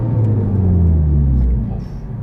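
A 2017 Honda Civic Type R FK8 braking hard from speed, heard inside the cabin as loud, low engine and road rumble falling in pitch as the car slows.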